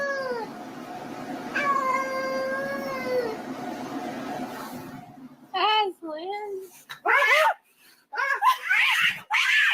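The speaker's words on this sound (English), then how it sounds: "Come take your demon cat." A cat yowls up close: one long, drawn-out caterwaul, then a series of loud, sharp meows with short gaps between them.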